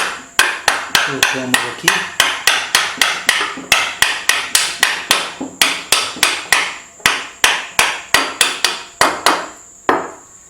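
A key is tapped into a pulley keyway on a Sanches Blanes benchtop lathe using a small piece of wood, a long series of about thirty sharp, evenly repeated knocks up close, with a brief spoken phrase.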